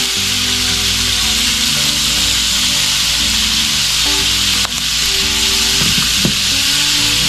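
Ground beef seasoned with garlic, herbs and pepper fries loudly in a pan, a dense, continuous sizzle close up with faint clinks and stirring near the end.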